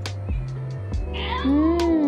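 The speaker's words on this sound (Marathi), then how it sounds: "हो मांजर आहे वाटतं." A cat calls out in a fish-smelling area near Nagaon beach, Alibaug, with a short meow and a longer rising, wavering cry at close range, alone against low background noise.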